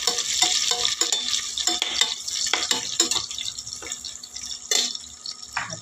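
Green chilies sautéing in a pan for vegetable biryani, a soft frying sizzle broken by stirring scrapes and a few sharper clatters, with no one talking.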